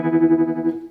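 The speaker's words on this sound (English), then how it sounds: "the type of tremolo, it seems quite round, so it's not a square wave" Flamma modulation pedal set to a sine-wave tremolo, a sustained guitar tone whose volume swells and dips in a smooth, rounded pulse about five to six times a second, loud and alone.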